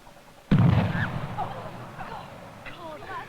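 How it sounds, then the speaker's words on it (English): An acetone explosion bursts with a sudden loud boom, then a rumbling decay lasting a couple of seconds, followed by scattered faint crackles and whistling tones. "that explosion was mostly acetone"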